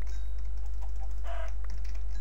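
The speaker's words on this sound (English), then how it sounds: "Oh, there's loads of chickens." Chickens cluck briefly in Minecraft, set against steady game background noise with a short burst of clucking in the middle.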